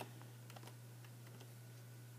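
A random world seed typed on a computer keyboard: a few soft, quick key clicks, faint and close, over a steady low electrical hum with no voices.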